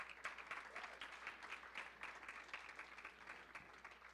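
A round of applause from the audience at a press conference, a fairly quiet but continuous patter of many hands clapping with no voices over it.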